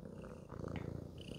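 A cat purrs close and steady, a low continuous rumbling pulse that fills the short moment with no voices over it.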